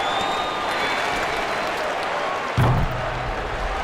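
An arena crowd in the NBA 2K24 basketball game applauds and cheers in a sustained wash of clapping, with a brief thump partway through and game sounds under it.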